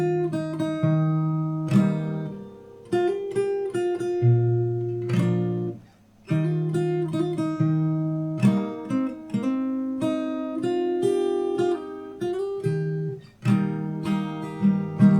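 An acoustic guitar is picked fingerstyle through the chorus chord progression of a song, steady and close, with bass notes ringing under plucked upper strings; no voices.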